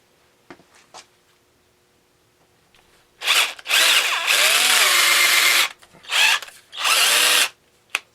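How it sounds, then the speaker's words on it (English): A power drill bores out a part of a Tecumseh HSSK50 small engine so it will take a tap. It runs in three close, loud bursts: a long grinding run, then two shorter ones, with quiet gaps between. "We're going to drill it out and we're going to see if it'll take the tap"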